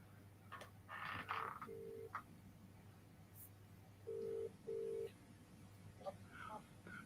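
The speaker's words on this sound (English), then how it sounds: "I'll have to phone him" A telephone number is dialed, with several short electronic keypad tones in separate bursts among quiet handling noises and faint background hum.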